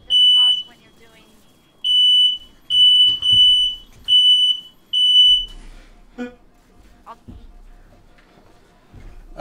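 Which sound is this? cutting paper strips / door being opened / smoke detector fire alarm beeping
smoke detector fire alarm beeping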